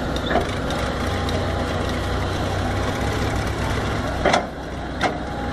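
An excavator engine runs steadily at a dry gold mining site, a close low rumbling idle with a couple of brief sharp knocks standing out over it.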